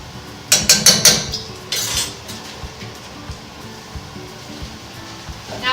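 A garlic peeler shaken to shell garlic, giving four quick metallic rattling clinks close together, then a longer rattle and faint scattered knocks.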